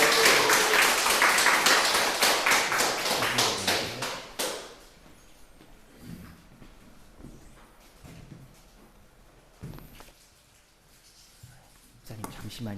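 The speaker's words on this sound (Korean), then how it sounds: "목사님 나오실 때 박수로 환영해 주시면 좋겠습니다" Audience applause welcoming a pastor to the stage at a church book talk, a dense burst of many hands clapping for about four seconds that then fades into a quieter room with scattered small noises.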